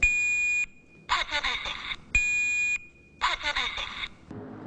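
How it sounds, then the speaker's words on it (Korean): Residential smoke alarm blaring in two long piercing bursts, each followed by a short stretch of speech from people in a home, with a brief low noise at the very end. "경보기가 설치된 주택은 화재 발생 시 큰 경보음이 울려 신속한 대피가 가능합니다"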